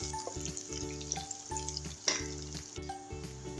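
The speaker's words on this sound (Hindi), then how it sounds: "तो थोड़ी देर के लिए फ्राई करेंगे जब तक इसका लाइट ब्राउन कलर ना आ जाए" Potatoes and cauliflower for aloo gobi sizzle steadily in hot oil in a pan, a continuous close frying hiss with faint stirring clinks and no voices.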